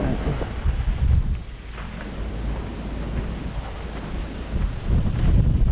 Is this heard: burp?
no